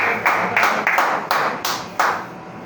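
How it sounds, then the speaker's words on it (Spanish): A church congregation claps in a Sunday morning service, about six distinct loud bursts of clapping in an uneven rhythm, close and without voices. "dale un fuerte aplauso al Señor en esta mañana"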